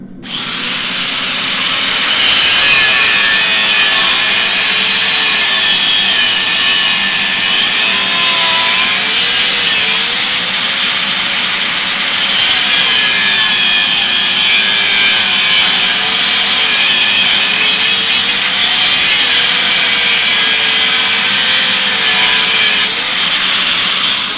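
An abrasive cut-off saw slices through a Mustad steel horseshoe clamped in a vise, a loud, continuous high grinding whine with wavering pitch that holds steady for over twenty seconds.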